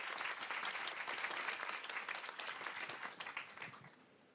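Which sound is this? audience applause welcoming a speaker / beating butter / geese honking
audience applause welcoming a speaker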